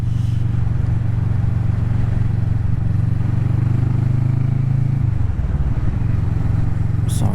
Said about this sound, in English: Try and get a blip of speed through there.